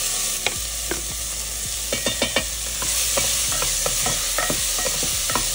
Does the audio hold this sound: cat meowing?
no